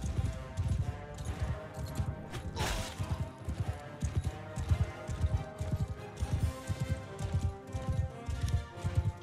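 Galloping horse hooves in the medieval combat game Mount & Blade II: Bannerlord, a steady rapid clip-clop rhythm continuing throughout with a brief crash of battle noise and faint background sound.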